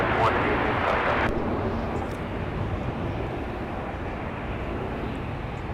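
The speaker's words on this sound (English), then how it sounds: "let's take another peek at Delta 170 arriving from Seoul" Delta 170, a heavy airliner arriving from Seoul at Minneapolis–St. Paul airport, gives a steady broadband roar with a louder rushing burst in the first second before settling into a sustained distant rumble.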